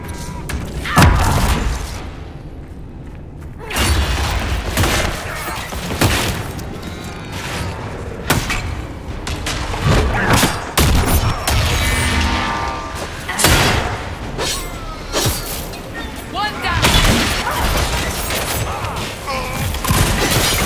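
Explosions in the video game Dragon Age Inquisition: a rapid barrage of heavy booms and thuds rolling on for the full stretch, loud and dense, with gunfire-like cracks and a faint voice now and then beneath.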